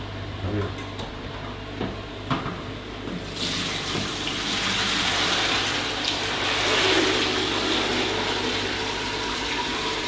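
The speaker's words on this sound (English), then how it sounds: "tip the water down the sink" Water poured from a kettle into a sink, a steady broad rushing splash that swells and continues for several seconds, with a few clinks before it starts.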